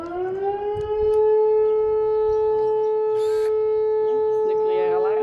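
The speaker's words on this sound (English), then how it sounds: "apparently in the Algarve, it's tradition to sound a siren at noon." A noon civil defense siren wails in the Algarve, Portugal, a loud sustained steady tone holding throughout, with faint voices and background sounds beneath it.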